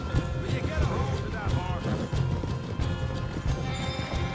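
A horse in Red Dead Redemption 2 gallops, its steady rhythmic hoofbeats close and continuous with an occasional whinny, while people talk over the sound.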